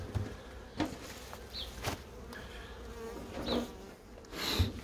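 Honeybees buzz around an urban beehive in spring, a faint continuous hum with occasional nearer passes of individual bees and light background noise, no talking.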